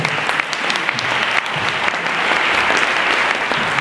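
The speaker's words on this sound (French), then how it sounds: "je vous demande d'applaudir chaleureusement" An audience at a lecture about returning to the Moon applauds warmly for the arriving speaker, a dense, steady sustained clapping that fills the room without a break.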